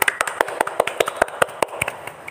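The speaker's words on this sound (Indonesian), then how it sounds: "Tepuk tangan dulu." A small audience clapping to welcome a guest at an Indonesian cooperative student organization event, heard as a sparse burst of separate, fairly close hand claps that thins out over about two seconds, with no talk over it.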